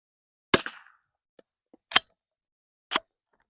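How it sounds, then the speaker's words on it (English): Savage 19 NRA Match and Remington 572 .22 rimfire rifles fire three sharp, close cracks about a second apart, with a couple of faint clicks in the quiet between shots. "We're just shooting for fun."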